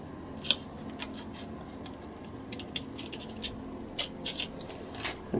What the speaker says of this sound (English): I'm going to use a gift card, cut it in half and use half on each horn